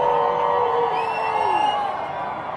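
A large, energetic crowd cheers, whoops and whistles at a No Kings protest march in downtown Dallas, a steady roar of voices swelling continuously around the listener.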